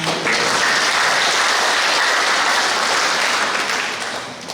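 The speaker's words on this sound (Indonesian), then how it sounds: "Tepuk tangan." Loud, sustained audience applause fills a hall during a formal plenary session marking the 26th anniversary of Tanggamus Regency, a dense, steady clapping that holds for several seconds before easing slightly at the end.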